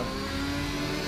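A V6 car engine revs in the Assetto Corsa racing game, part of the RSS GT mod pack. It is a steady, loud, continuous engine drone that fills the whole moment with no talking.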